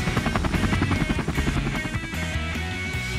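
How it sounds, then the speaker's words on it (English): A helicopter thumps overhead with loud, rapid rotor chopping in a steady pulsing rhythm over a whining engine drone. "It's a helicopter!"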